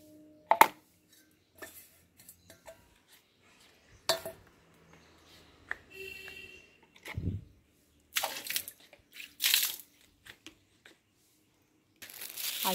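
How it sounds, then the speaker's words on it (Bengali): A bowl being rinsed in a garden while making homemade organic plant fertiliser: scattered clinks and knocks of the bowl, bursts of splashing water, and brief scraping, close and intermittent with quiet gaps. "বাটিটা আপাতত একটু ধুয়ে নিয়ে চলে গেলাম"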